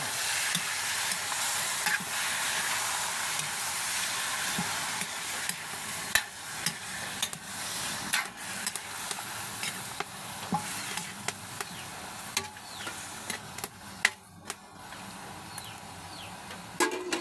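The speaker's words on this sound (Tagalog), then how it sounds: "haluin mabuti para maalis ang lansa." Food frying in a pan is stirred, the sizzle running steadily under repeated scraping and clinking strokes of a utensil against the pan. The strokes are irregular and grow sharper toward the end, and no one speaks.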